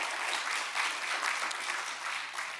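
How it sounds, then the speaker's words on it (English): An audience claps at a school community launch event, a brief, dense burst of applause at steady volume throughout, with no voices over it. "Let's give them a big round of applause."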